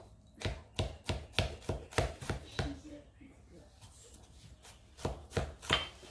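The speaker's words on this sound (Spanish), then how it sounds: "Todo lo van a picar finito hasta que lo terminen de picar." Food gets chopped finely on a small cutting board in quick, regular knife strikes, a burst of about a dozen close sharp thuds, a pause, then a few more.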